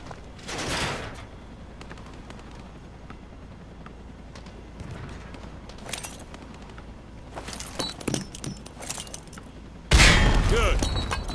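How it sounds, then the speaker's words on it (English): Frag grenade explosions on a firing range in Call of Duty Modern Warfare 2 Remastered, with one blast early, scattered smaller bangs in the middle and a loud burst near the end, with a voice speaking in between. "Toss the grenade down the range to take out several targets at once."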